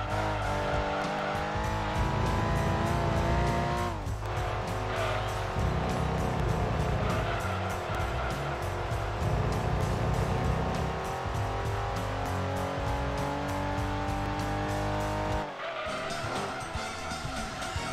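Race car in Gran Turismo 2 revving hard through the gears while braking and downshifting to second for a corner, with a loud continuous engine whine, a drop in revs near four seconds and tire squeal, heard alone.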